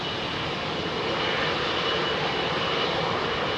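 A jet airliner's engines spooling up for takeoff on Heathrow runway 27R, a close, loud and continuous roar that builds slightly in strength, heard alone.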